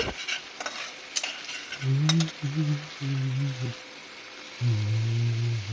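Spice mix being stirred and fried with sugar in a pan for a sesame and pointed gourd dish, a steady sizzle with spoon scrapes, while someone talks over it in bursts.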